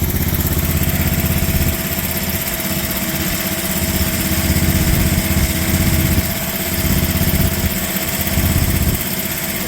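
A cold MIVA VA15 mini excavator engine idles steadily and loudly up close, a continuous low rumbling chug with a slight rhythmic pulsing and no voices.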